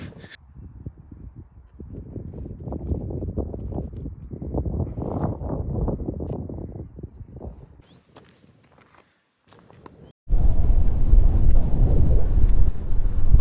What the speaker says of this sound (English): It's getting windy up here.